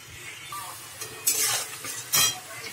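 Boiled chowmein with turmeric, onion and potato is stirred in a hot pan, a soft sizzle under scraping and a few sharp metallic clinks of the utensil, close and without talk.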